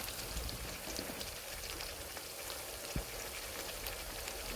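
Desi rooster meat fries with ginger-garlic paste in a pan, giving a dense, even hiss like rain with one sharper knock near the end, constant and fairly quiet with no voices.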